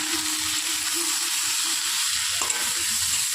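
Ground cumin, turmeric and ginger paste fry in a pan for a water spinach curry with lentil dumplings, giving a dense, even sizzling hiss with a faint stirring knock partway through.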